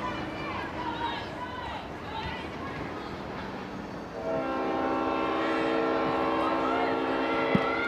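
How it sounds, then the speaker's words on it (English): A train rumbles past a women's soccer match under a commentator's voice, then a sustained horn-like tone joins in and holds as the rail noise grows louder. "the 6:30 train's a little early today"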